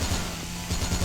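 Gunfire in a Yakuza spinoff video game as flying spitting enemies called Diptera are shot down, heard as a rapid series of loud, punchy shots with a brief lull in the middle before firing resumes.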